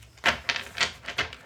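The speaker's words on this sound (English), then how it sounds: "you can see they shuffle really nice" Linen-finish Fifth Spirit tarot cards being shuffled by hand, four soft papery riffling bursts in quick succession, close and fairly loud with no talking.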